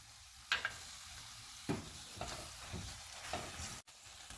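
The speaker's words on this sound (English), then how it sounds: "After adding the curd, mix well and give it a nice stir" Curd being stirred into a vegetable biryani masala in a pan, with a few distinct scraping strokes and a soft, steady sizzle underneath, close and fairly quiet.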